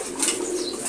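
Pet pigeons coo softly over a steady hiss of background noise in a brief moment with no talking.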